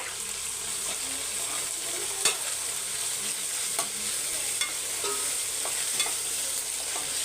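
Chilli flakes stirred into chicken in a pan over low heat for restaurant-style chicken 65 biryani, a steady soft sizzle with faint scraping and a few light utensil taps, no talking.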